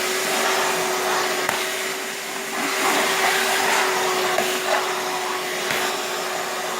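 A dry vac vacuum cleaner, about fifteen years old, runs continuously with a loud steady whooshing roar and a constant hum, close by and with no talking.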